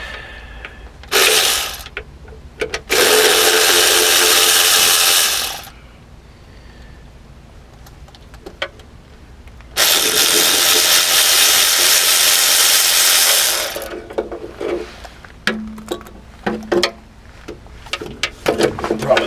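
A ratchet loosens bolts on a worn-out engine. Two long, loud bursts of rapid ratcheting clicks sound close up, separated by a pause and followed by scattered light clanks.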